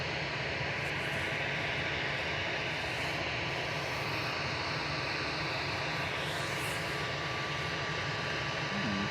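Boeing 787 Dreamliner engines at Manchester Airport produce a constant, loud, hissing jet roar with a faint rising whine passing through midway. The sound stays dense and steady for the whole stretch, with no voices.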